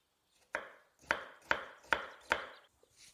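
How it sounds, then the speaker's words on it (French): A knife chops an onion into small cubes on a board, five crisp, evenly spaced chops close by with a quiet pause between each. "Je pose mon oignon sur ma base et je vais le découper en cubes."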